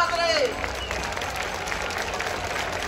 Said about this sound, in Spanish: le rinden un aplauso a todas las madres que ya se acerca el día de la mamita